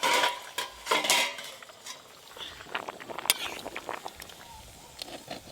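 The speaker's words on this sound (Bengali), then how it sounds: "মাঝে মাঝে কিন্তু খুন্তি দিয়ে এভাবে নেড়ে দিতে হবে, নাহলে নিচে লেগে যাবে" A spatula stirs foamy rice in a pot, giving irregular scraping and clinking of metal against the pot's side and base, with a soft bubbling patter between strokes and voices speaking nearby.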